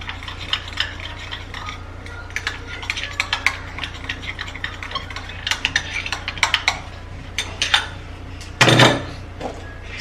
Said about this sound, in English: then I'm gonna turn that into my baking soda and petroleum jelly, and then give it a fine stir